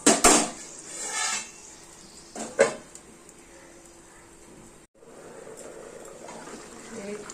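A metal lid clanks onto a pot of katla fish head muri ghonto, two sharp close rattles followed by a quiet simmering hush.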